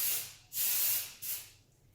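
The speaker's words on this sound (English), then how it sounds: "we are going to spray some texture spray" Texture spray misted onto a hair topper in three quick hissing bursts, close and fairly loud, with short pauses between them and no talk.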